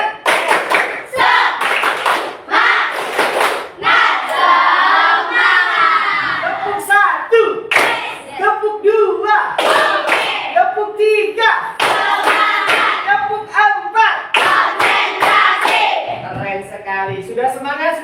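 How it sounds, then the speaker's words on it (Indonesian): A school class performs a 'tepuk semangat' spirit clapping chant, children shouting rhythmic words in unison between sharp bursts of coordinated claps and table thumps, loud and energetic, with chanting voices throughout. "coba kita tepuk semangat dulu"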